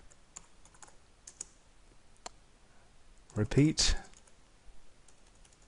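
Code being typed on a computer keyboard in Turtle Academy Logo: sparse, light key clicks spread through the clip, with a brief spoken word in the middle.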